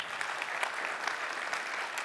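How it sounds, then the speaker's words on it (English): Conference audience applauding to welcome a speaker to the stage, a steady patter of many hands clapping at moderate volume, with no voices over it. "please welcome her with haute applause"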